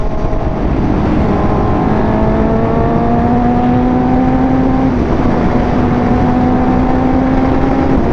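A 1000cc motorcycle revving hard and accelerating, its engine note climbing steadily and loudly up close, continuous for several seconds with no speech.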